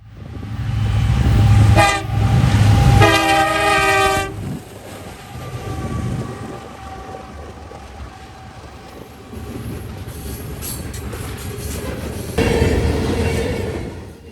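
NS 1066, the New York Central heritage unit, leads a unit train on the Dayton District, its horn blaring loud and close in two long blasts before the rumble of passing railcars continues steadily.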